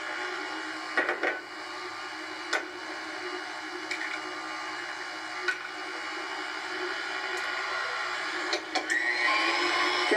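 Eggs beaten with sugar in a bowl by an electric mixer, a steady whirring motor drone with faint sloshing and a few light knocks against the bowl, alone and close.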